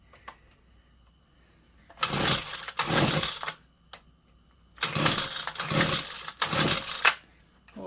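A Husqvarna 130L chainsaw with a newly replaced cylinder and piston is pulled to start, giving two loud bursts of rough engine noise, each made of two quick surges, with quiet gaps between them.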